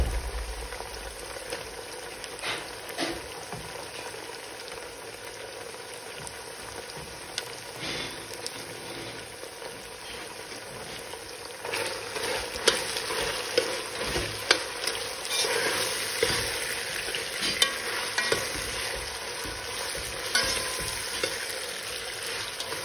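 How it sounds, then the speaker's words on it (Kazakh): Garlic sizzles steadily in a frying pan with potatoes and meat, a continuous crackling fry with scraping stir strokes that grow busier toward the end, close and with no talking. "Қуырылып жатқан сарымсақты тағы да бір араластырып жіберейінші."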